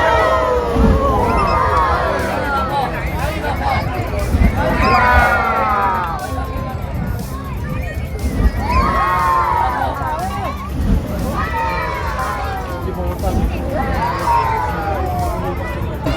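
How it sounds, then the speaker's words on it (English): A large crowd at the Dragon Bridge show in Da Nang cheers and shouts excitedly in repeated surging waves, with loud rising whoops over steady crowd murmur and babble. "Oh, that's why the crowd got excited all of a sudden."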